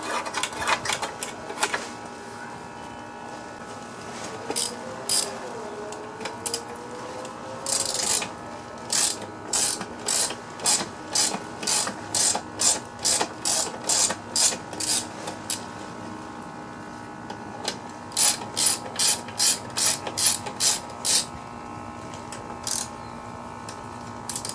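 A ratchet wrench works a bolt loose on a Craftsman lawn mower in repeated bursts of sharp clicking, close and crisp, with pauses between strokes and a faint background hum.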